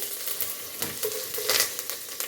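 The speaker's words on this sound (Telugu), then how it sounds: "కరివేపాకు కొంచెం వేగనివ్వండి" Curry leaves frying in oil in a pan for mango sambar, giving a steady close crackling sizzle with brief louder spits and pops, no voices.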